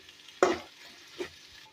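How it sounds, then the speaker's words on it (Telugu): Okra fry with Rayalaseema chilli powder being stirred in a pan: two distinct scraping strokes of a spatula, the first louder, over a faint background sizzle. "బాగా బెండకాయలు పట్టేదాంట్లో బాగా కలుపుకోండి ఫ్రెండ్స్."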